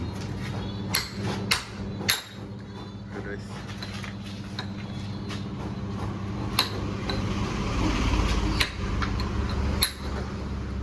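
A hammer strikes bolts in a workshop to loosen them: several sharp metallic knocks at irregular intervals, close and distinct, over a low mechanical background hum.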